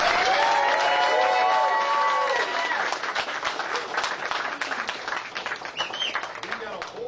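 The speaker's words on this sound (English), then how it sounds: "First thing I want to start off with is a huge round of applause for Mr. Jim Lambert." Loud applause from a crowd fills the room, starting with a whistle, then thinning into scattered clapping with a voice speaking over it.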